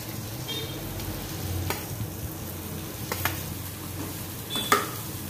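Ridge gourd is stir-fried in a pan, giving a steady close sizzle with occasional sharp scrapes and knocks of a spatula against the pan.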